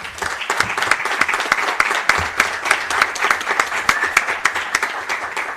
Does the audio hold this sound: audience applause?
yes